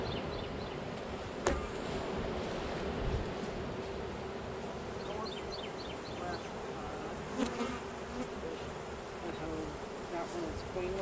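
Honeybees buzz steadily around an open beehive, a dense continuous drone close by with a few individual bees passing nearer.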